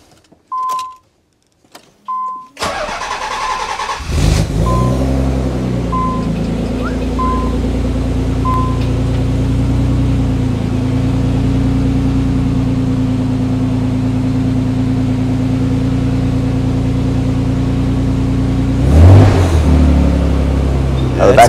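A Nissan Z car on a lift with its rear wheels off the ground, heard as a few chimes before the engine cranks and catches, then settles into a steady loud idle with a brief rev near the end.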